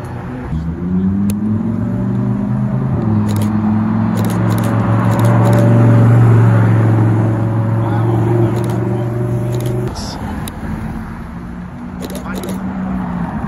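A BMW M8 supercar drives past in Alderley Edge with a strong, rising engine note that swells over several seconds as it nears and then fades, with people talking over it and clicking sounds throughout.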